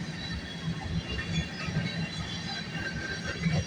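CN freight train A434 rolling past at night gives a steady rumble of wagons and wheels on rails, close and continuous, with occasional faint squeals above the clatter.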